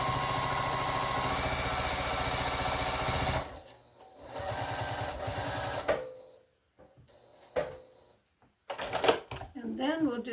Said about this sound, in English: we're going to sew that